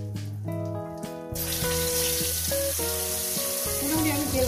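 Gurjali fish dropped into hot oil set off a sudden loud, bright sizzle partway through, which then continues steadily at close range over background music.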